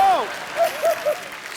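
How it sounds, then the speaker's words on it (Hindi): A studio audience on The Kapil Sharma Show claps in a short, dense burst of applause that swells and fades, with a voice rising briefly over the noise. "ठोको ताली"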